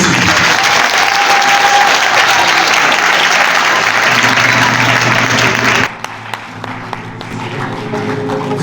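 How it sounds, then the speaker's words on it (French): Loud, dense applause from a large audience at a youth book fair reading contest in Libreville fills the first six seconds, then cuts to a quieter room with scattered faint clatter. "Le jury de ce concours, applaudissements."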